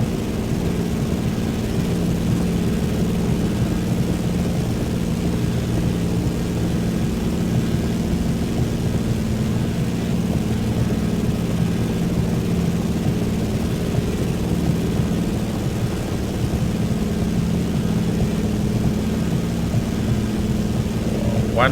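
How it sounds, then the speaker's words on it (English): Propeller engine of an old plane in Microsoft Flight Simulator 2024, flying a long rainy leg out of Nairobi, Kenya: a steady, loud, unbroken drone that holds at one pitch throughout. "One thing you have to know is that this plane moves a bit slow."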